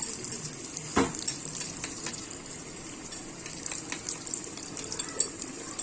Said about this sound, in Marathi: आणि हा तडका आपण त्या भाजीच्या वरतून टाकणार आहोत